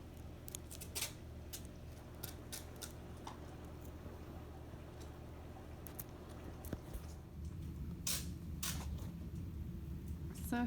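Scissors snip through a thrifted beaded item, a quiet series of close, sharp cuts coming in irregular bursts with light handling noise between them.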